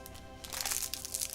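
Close crunching and crinkling from biting into crunchy coconut candy, a few bursts of brittle crackle over about a second, no voices.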